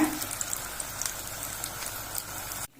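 Steady hissing and bubbling of chilli fritters frying in hot oil, fairly quiet and continuous, then cutting off abruptly at the end.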